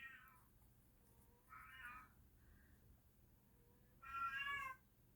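A pet cat meows repeatedly indoors, three distinct calls with pauses between them, the last the loudest and longest, fairly close against a quiet background with no talking.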